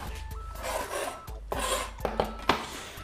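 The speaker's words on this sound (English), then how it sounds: "We're going to cut the top off with a nice, sharp, serrated knife." A sharp serrated knife saws through the top of an artichoke in short, rough back-and-forth rasping strokes, close and fairly quiet, with small crunching snaps between strokes.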